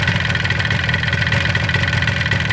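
A Yamaha RD400 two-stroke motorcycle engine runs at a steady, rapid idle, its close, loud, buzzy putter pulsing evenly without pause.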